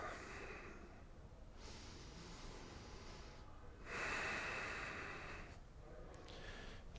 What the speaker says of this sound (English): some nice deep breaths here